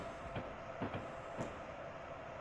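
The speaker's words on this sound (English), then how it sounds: "We're being pulled into a Long Island Railroad track number 17" An Amtrak Vermonter train rolls slowly into a Long Island Rail Road track at New York Penn Station, giving a few soft wheel clacks over the rail joints above a steady low rumble, faint and heard from inside the car.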